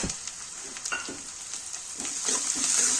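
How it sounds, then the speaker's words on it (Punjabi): Chopped green chili and ginger hit browned onions in a pan on a gas flame, giving a crackling fry with scattered stirring clatters and a hiss that builds steadily louder. No voices are heard. "ਹੁਣ ਆਪਾਂ ਇਹਦੇ ਵਿੱਚ ਹਰੀ ਮਿਰਚ ਤੇ ਅਦਰਕ ਆ ਜਿਹੜਾ ਕੱਟਿਆ ਹੋਇਆ ਉਹ ਪਾ ਦਾਂਗੇ"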